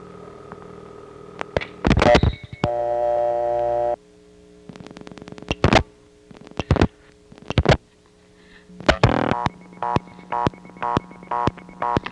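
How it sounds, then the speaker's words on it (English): Erratic electronic tones and rapid bursts of clicking beeps from a malfunctioning payphone coin totalizer, stuttering on and off in irregular clusters. "Sounds like a coin phone going bananas on there."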